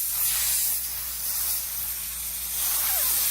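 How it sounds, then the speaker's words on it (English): Compressed air hisses steadily and loudly as it blows dust and grime out of the checkering on a gun stock, a continuous broadband rush with slight swells in strength and no pauses. "we'll blow all the dust off it, get all the whatever else is in there, grime, dirt, get all the dust off it"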